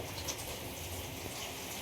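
Steady rain pouring down, a dense hiss of drops drumming on surfaces, constant and moderately loud with no voices.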